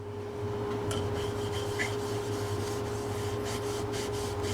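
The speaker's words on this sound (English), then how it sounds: "we'll use a paste wax, put a shine on it." Soft, continuous rubbing and scuffing as paste wax is rubbed onto a walnut bowl, over a steady machine hum, with a few brief squeaky strokes near the start.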